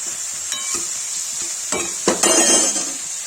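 A spoon stirs aloo gobhi, potato and cauliflower cooked in a little oil, in a pan. The steady sizzle is broken by a few louder scraping bursts near the end, with no voices.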